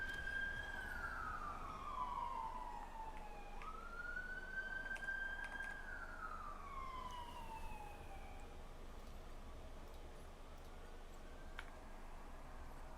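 An emergency vehicle siren, police or ambulance, wailing up and down in slow sweeping tones against a steady background hum, moderately distant and fading.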